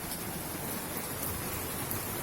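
Rain falls on a balcony in Delhi, a soft, even wash of hissing drops that continues steadily and fairly quietly throughout, with no talking.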